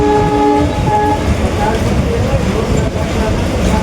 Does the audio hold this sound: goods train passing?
yes